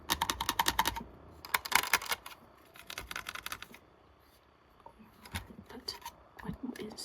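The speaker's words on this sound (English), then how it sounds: "tapping sounds, plastic tapping." Rapid light clicking taps on a hard plastic toy figure come in quick bursts with short pauses, close and fairly quiet.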